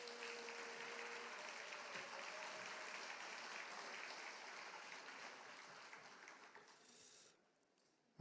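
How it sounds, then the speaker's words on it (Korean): Warm applause from a crowd at a Korean party regional rally in Daejeon for the party leader, steady and fairly distant, holding evenly before tapering off and stopping near the end. "여러분 다시 한번 뜨거운 박수 부탁드리겠습니다"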